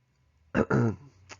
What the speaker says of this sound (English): pardon me a second so I can cough